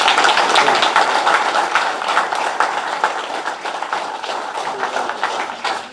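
Audience at a WCRC candidates forum applauding steadily, a dense wash of clapping from many hands that holds for the full stretch and tapers slightly toward the end.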